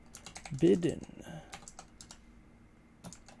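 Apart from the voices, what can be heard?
typing on a computer keyboard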